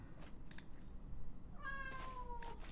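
A little brown cat lets out a drawn-out, wavering meow, moderately close, preceded by a few soft clicks and rustles in a quiet indoor setting.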